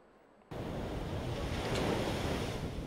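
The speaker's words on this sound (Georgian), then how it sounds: "შტორმი დაფიქსირდა ბათუმში, დაიტბორა ძველი და ახალი ბულვარის ტერიტორია" Storm waves of the sea at Batumi boulevard crash in suddenly after a brief quiet, followed by a continuous, loud roar of surf and wind.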